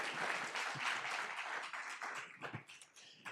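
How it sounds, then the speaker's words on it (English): Audience members at a school board regular meeting give a brief round of applause, fairly faint and distant, with scattered claps that thin out and trail away toward the end. "Let's give Wes a round of applause."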